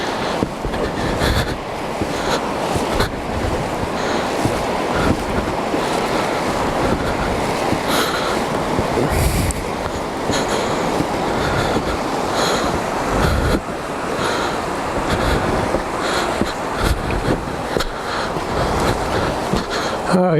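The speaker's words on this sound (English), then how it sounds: "So here's the river." A river rushes in a broad, steady roar close by, with bursts of wind buffeting the microphone, heard on a motorcycle trip to Dagger Falls.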